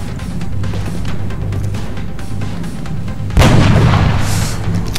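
A sniper rifle fires a single heavy shot in XCOM: Enemy Unknown. It cuts sharply through a loud, rumbling game soundscape and leaves a booming tail behind it.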